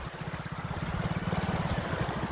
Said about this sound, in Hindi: और दोस्तों ये जो नदी है ना, इसका जो पानी है बहुत तेजी से बहता है।